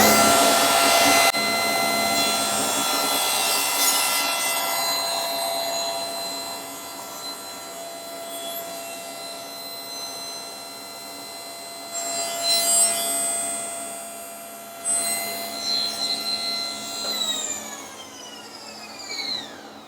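Table saw fitted with a half-fence thin-strip jig ripping a thin wood strip, a sustained whine with a rising cutting rasp, then a quieter run-down and a couple of further bursts as the blade spins.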